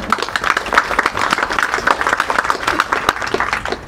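An audience at a public talk claps together in a dense, steady burst of applause lasting several seconds. A few faint voices sit under the clapping.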